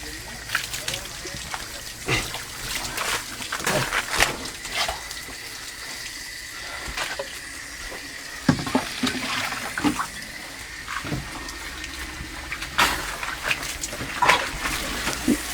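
Water poured over an animal's head during washing, splashing and trickling in uneven bursts, with people talking throughout.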